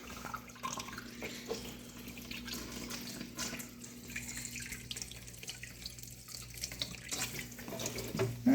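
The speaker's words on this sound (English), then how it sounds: "Take some water, that's just clean water, drinking water. Just pour it down there." Clean drinking water poured into the drain line of a Harvest Right freeze dryer, a soft, continuous trickle and splash running for several seconds over a low steady hum, quiet and close.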